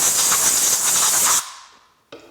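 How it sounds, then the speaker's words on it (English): Compressed air blasts loudly into a lathe scroll chuck for woodturning, a harsh steady hiss lasting over a second that cuts off abruptly, followed by a short second puff. "get in here and blow the scroll out, so I'm left here with a fairly clean chuck"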